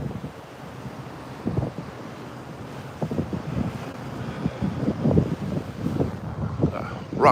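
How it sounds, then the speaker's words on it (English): Strong gusting wind buffets the microphone on the upper deck of the NCL Pearl cruise ship, low rumbling bursts rising and falling irregularly over a constant roar, with no talk. "Definitely extra windy up here."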